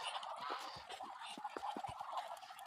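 Turkeys around seven months old gobble outdoors in rapid, overlapping bursts of warbling calls, close by and fairly loud against a light background hiss.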